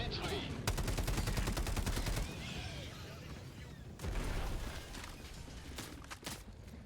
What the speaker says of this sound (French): Là, tu t'éclates avec ton pistolet?